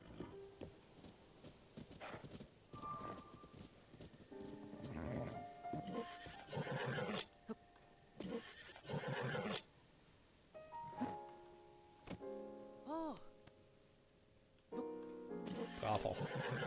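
A wild horse in Zelda: Tears of the Kingdom whinnies several times in loud, clear bursts, with hoof clip-clops in between and someone talking at intervals.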